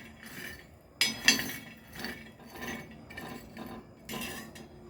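Peanuts stirred while roasting on a thick griddle: a run of scraping, rattling strokes, roughly five or six, heard close up and alone, with a sharper clattering burst near the start.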